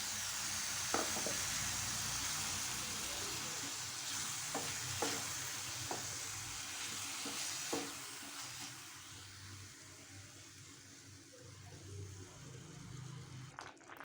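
Steady sizzling and frying hiss from masala sautéing in a pan for mutton liver fry, with occasional scrapes and stirring knocks, no talking.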